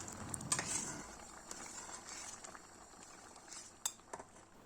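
Tomato sauce simmers in a pan with a soft sizzle while a utensil stirs it, scraping and clinking against the metal now and then, close and fairly quiet with no talking.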